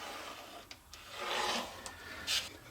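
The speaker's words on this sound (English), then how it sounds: "I'm going to trace around the outer perimeter." A pencil traces around a wooden offcut template for a doll's Adirondack chair, giving soft, faint scratchy rubbing strokes with short taps and a louder scrape near the end, close and quiet.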